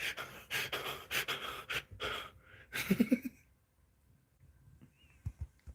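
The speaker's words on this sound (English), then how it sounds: "And you can hear me breathing. I'm panting." A series of heavy, rapid breaths, panting in quick bursts close to the mic, then quieter stretches with a few soft thumps.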